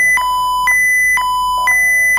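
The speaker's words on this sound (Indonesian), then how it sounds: "di sini teman-teman akan muncul alarm yang munculnya dia ada di sebagian sini" An alarm beeps in VT SCADA HMI simulation software during a low-voltage alert, sounding as loud, pure electronic tones that alternate in pitch in a steady repeating pattern, with no talk.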